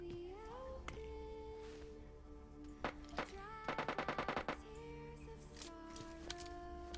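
Gunfire in the PUBG Lite video game: scattered single shots and a fast rattling burst of automatic fire over steady game music tones, fairly faint.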